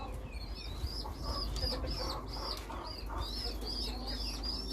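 A mother pigeon feeds her two chicks in the nest, with repeated high, squeaky begging peeps, soft coos and rustling, all close up.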